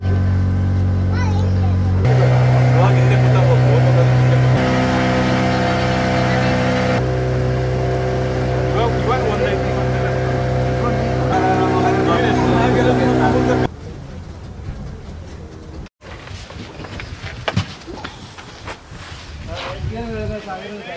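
Boat engine on a ride out to Paradise Beach in Pondicherry: a steady, loud motor drone for about fourteen seconds, then a rougher, more uneven mix of engine and water noise.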